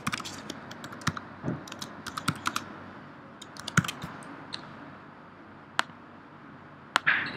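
Quick bursts of keyboard typing, crisp individual key clicks in short irregular runs with brief pauses between, close and fairly quiet.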